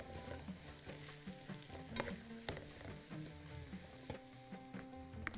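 Onion frying in hot oil for a Bahraini shrimp curry (saloonat rubyan), a steady crackling sizzle with occasional stirring scrapes and pan clinks, close and even throughout.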